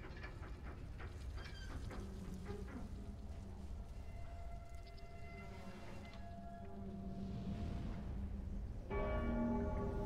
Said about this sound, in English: So this will now chime the bell in somebody else's world.